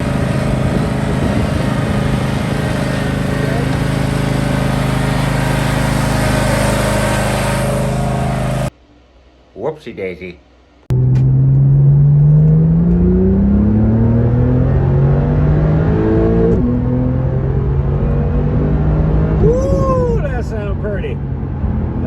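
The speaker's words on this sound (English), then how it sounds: "Man, just never get sick of that boxer engine." A Porsche 911 GTS boxer engine revs hard and accelerates up through the gears on an on-ramp, loud and close, with a brief quieter gap and a short spoken remark partway through.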